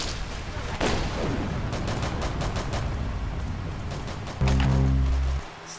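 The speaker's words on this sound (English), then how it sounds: "Stupid fireworks gun makes it lag." Rapid bursts of firework-gun shots in the Roblox Arsenal game crackle and pop in a dense, steady volley, ending in a loud, low boom near the end.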